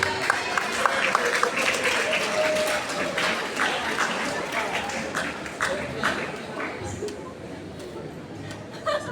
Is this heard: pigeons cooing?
no